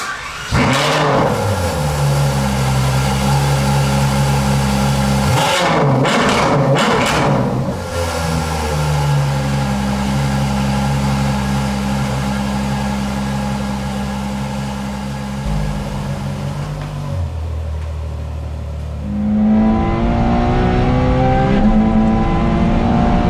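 A Ferrari F12 TDF being driven: a loud, steady engine drone that holds under load with a short lift around the middle, then climbs in pitch as it revs harder near the end.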